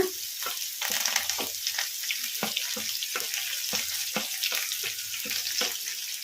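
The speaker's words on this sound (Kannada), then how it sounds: "ಉಳ್ಳಾಗಡ್ಡಿ ಜಾಸ್ತಿ ಫ್ರೈ ಆಗೋದೇನು ಬೇಡ ಲೈಟ್ ಬ್ರೌನ್ ಕಲರ್ ಬರೋವರೆಗೂ ಫ್ರೈ ಮಾಡ್ಕೊಂಬಿಡೋಣ" Chopped onion, green chilli and curry leaves frying in a pan, giving a steady crackling sizzle broken by repeated scraping stir strokes at a regular rhythm, close and moderately quiet, with no voices.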